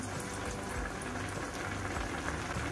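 Leftover ghee goes into carrot halwa cooking in a pan, giving a steady, close bubbling sizzle that carries on evenly throughout with no voices.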